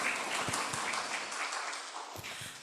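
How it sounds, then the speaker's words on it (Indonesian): Applause from a seminar audience at the close of an opening address, a steady wash of clapping that tapers off slightly toward the end, with no voices over it. "Boleh sekali lagi dong tepuk tangannya"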